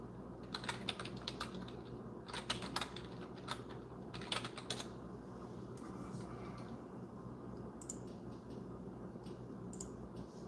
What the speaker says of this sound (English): let's do a little bit more clickety-clack on the keyboard